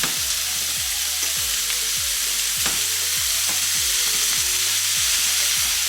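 Ground beef sizzles and crackles loudly in a hot pan, a dense steady fry with rhythmic low thumps from stirring or breaking up the meat, close and continuous without speech.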